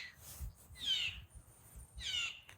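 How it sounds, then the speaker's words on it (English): Birds in the trees along a neighborhood walk give two separate chirping calls about a second apart. They sound fairly faint and distant over a low background rumble. "There's so many birds up here in the trees."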